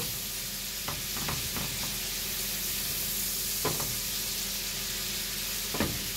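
Chicken fries in a pan with garlic, spices, oil and butter, a steady sizzle with a few sharp clinks from stirring, no talking.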